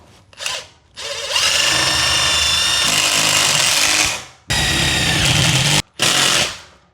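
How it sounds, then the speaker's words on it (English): A power drill whines loudly in several close bursts, revving high as it drives a screw into steel without pre-drilling, with short pauses between pushes. "So I'm just going to"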